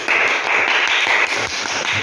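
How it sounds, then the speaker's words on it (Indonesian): A classroom group claps for a student named Bima during a lesson, a brief close burst of dense, steady handclapping that fills the short moment. "Oke, tepuk tangan untuk Bima"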